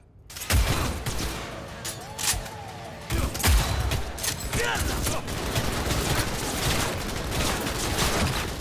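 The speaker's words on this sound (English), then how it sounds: "if your first volley of bullets aren't killing me, what makes you think another volley will?" Repeated gunfire volleys in the video game Cyberpunk 2077, dense bursts of shots crackling over a busy, noisy game soundscape, loud and sustained with sharp peaks near the start and around three seconds.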